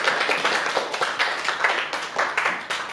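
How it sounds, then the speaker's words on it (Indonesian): Audience clapping for a student presentation group in a university classroom, a brisk scattered round of hand claps from a modest group, fairly close and moderately loud, with no talk over it. "beri tepuk tangan untuk kelompok 1"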